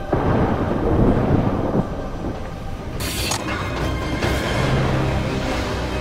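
Thunder rumbles and cracks through a heavy storm in a Mission Impossible action scene where skydivers jump into the tempest, a loud continuous roar with a sharp crash midway.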